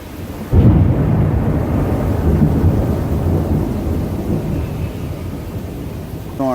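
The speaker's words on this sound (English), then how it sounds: "I actually love watching the lightning storm," Thunder from a windy lightning storm cracks in suddenly and then rolls on as a loud, sustained low rumble that fades slowly, heavy and close with a steady wash of rain or wind beneath and no voices.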